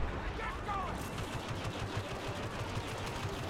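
Blaster fire in the video game Star Wars Battlefront 2, faint rapid shots crackling in an irregular stream beneath a busy game soundscape.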